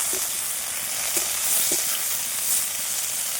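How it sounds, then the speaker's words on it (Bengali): Bitter gourd fries in a pan with salt, giving a continuous close sizzle broken by a few light scraping stirs, and nobody speaks. "নুনটা দিয়ে খুব ভালোভাবে নাড়ি চালিয়ে নেব লাল লাল করে ভেজে নেব উচ্ছেটা"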